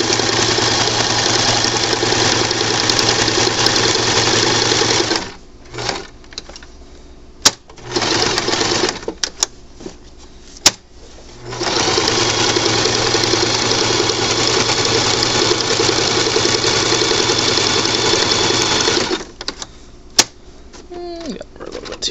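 A sewing machine runs in long loud bursts of straight stitching around a reusable sandwich bag, with short pauses and a few quick restarts between runs and no talking.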